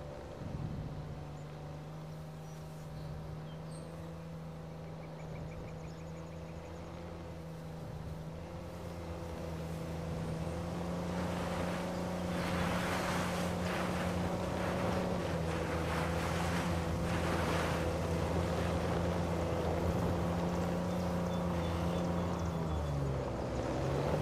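Steady low engine drone of a boat cruising over the ocean in Uncharted 4, with waves and wind washing over it, the water noise swelling louder midway and holding to the end, no voices.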